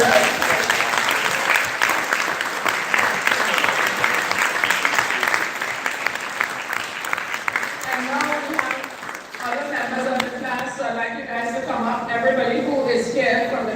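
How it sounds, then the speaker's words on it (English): A reunion audience from a 1960s–70s school class gives a sustained round of applause that thins out partway through, followed by people talking and murmuring nearby. "So I'd like to have us give us a round of applause and thank everyone."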